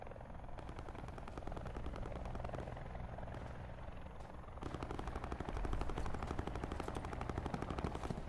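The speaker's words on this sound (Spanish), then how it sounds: "Estoy disparando el helicóptero ese." Rapid automatic gunfire in a video game rattles continuously at a helicopter whose rotor thrums loudly underneath, with the bursts growing denser midway through.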